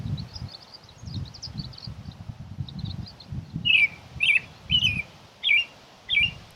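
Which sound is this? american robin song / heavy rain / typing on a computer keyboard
american robin song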